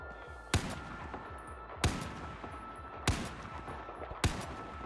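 Four evenly spaced single gunshots in the Battlefield 4 campaign, each a sharp crack about a second apart over a steady background of battle ambience.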